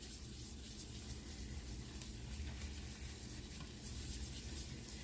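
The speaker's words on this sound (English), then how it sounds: "I'm going to want to cook that flour out." Flour cooking in a hot pan as the roux base for a cauliflower au gratin sauce, giving a steady, close sizzle and hiss with faint stirring, continuous throughout and without talk.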